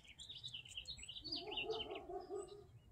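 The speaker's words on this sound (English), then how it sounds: "So the birds we're hearing this morning are the Bewick's wren." A Bewick's wren sings a series of high, buzzy trills and warbles, fairly close, over a low background hum, in a garden in the morning.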